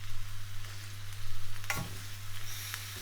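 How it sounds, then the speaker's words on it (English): Stir-fry ingredients for a pie sizzle steadily in a pan, a soft continuous frying hiss broken by a brief clatter partway through, with nobody talking. "I'll fry all this up"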